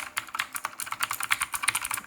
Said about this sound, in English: The typing experience.